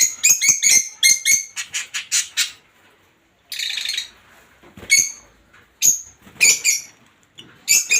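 Budgerigars and lovebirds in an aviary give loud, close bursts of squawking chirps in rapid clusters, with short quiet gaps between them.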